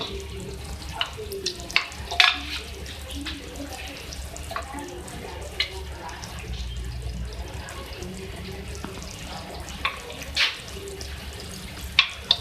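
Chicken balti with garam masala frying and being stirred in a pan: a continuous sizzle with scattered scraping clinks and water-like splashes, a voice talking intermittently.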